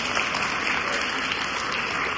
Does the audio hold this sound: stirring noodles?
no